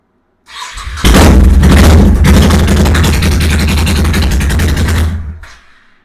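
A cold Honda Shadow Sabre 1100 motorcycle with stock exhaust cranks briefly, then fires into a loud, close, rumbling V-twin idle with steady pulsing, and cuts off after about four seconds.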